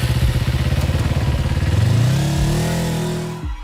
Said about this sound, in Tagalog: Agad ay pinaharurot ko ang motorsiklo.